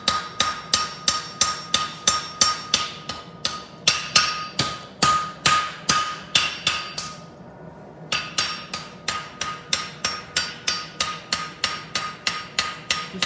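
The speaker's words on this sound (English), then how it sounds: "Just coming flat on the hammer, hitting the same spot, and just pushing that material back." Steady, rapid hammer blows ring out on stone, flat strikes hitting the same spot one after another in an even rhythm, with a short pause midway before the tapping resumes.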